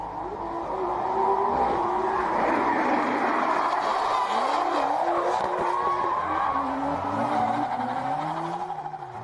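Drift car tires squeal loudly and continuously as the car swings into a backward drift entry, with engine roar beneath and a wavering high-pitched screech sweeping up and down throughout.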